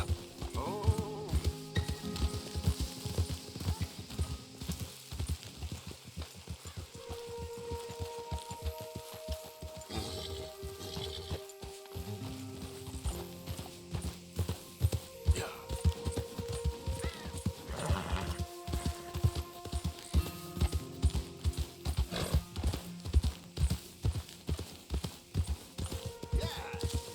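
A horse in the Western video game Red Dead Redemption 2 trotting with rhythmic hoof clip-clops and an occasional whinny, under game music and brief character speech.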